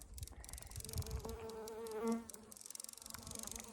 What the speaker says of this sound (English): And there's a million bees just working today.